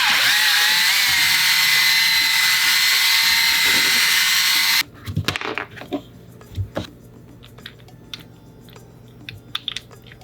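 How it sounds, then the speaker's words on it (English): A power drill whines steadily at high speed, boring a hole through PVC for a bolt, then stops abruptly, followed by scattered clicks and knocks of handling nearby. "make the hole in the top of this wide enough where we can just slip the bolt screw through"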